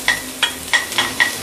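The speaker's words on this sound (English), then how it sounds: "Put in some oil. Raise the heat. I'm going to saute the garlic ginger." Garlic and ginger sautéing in hot oil in a small wok, with six evenly spaced bursts of sizzling and scraping as the pan is stirred, close and moderately loud, no talking.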